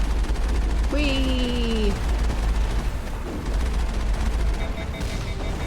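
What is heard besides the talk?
gunfire in Mass Effect video game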